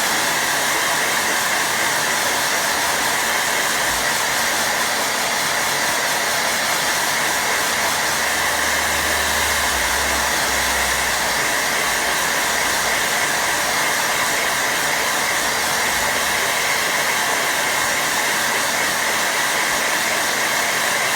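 A hair dryer blows continuously over a watercolour painting, a loud, steady broadband whoosh with a constant motor whine that holds throughout with no talking.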